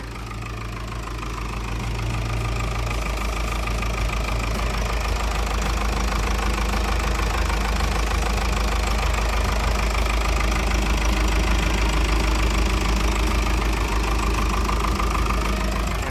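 A Komatsu WA100-3 wheel loader's diesel engine idles nearby with a steady, loud, knocking rumble that holds an even rhythm throughout, with no voices.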